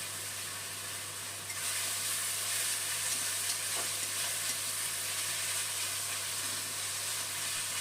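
A ground paste of ginger, garlic, green chili and onion fries with tomato in a pan for a boal fish curry, giving a steady, moderately loud sizzle that swells after the first second and carries on with soft stirring, no voices.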